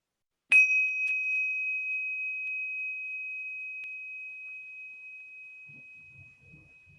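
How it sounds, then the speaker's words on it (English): A single bright bell strike rings out clearly at the start of a mindfulness session, then its pure tone slowly fades over several seconds into near silence, with faint low rustles at the end. "when you hear the bell, we can begin"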